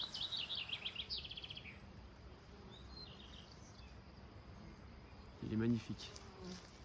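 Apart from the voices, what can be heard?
swarm of honeybees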